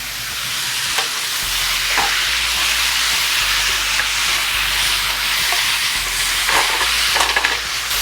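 Tamari hitting a hot pan of greens, giving a steady close sizzle and hiss of steam with occasional stirring scrapes, no voices.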